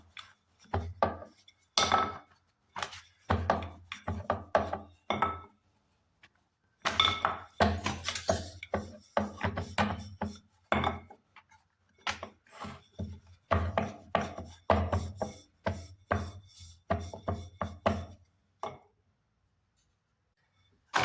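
A rolling pin works paratha dough into a triangle shape on a board, making close, rhythmic bursts of rubbing and knocking strokes with brief pauses between rolls.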